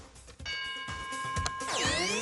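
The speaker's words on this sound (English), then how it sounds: "There goes the bell" A game show bell chimes with clear, sustained tonal notes over a busy studio background, ending in a bright sweeping musical flourish.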